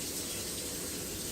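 Water pours steadily into a pot for boiling chicken breast, a continuous close gushing splash like a running tap, with no talking.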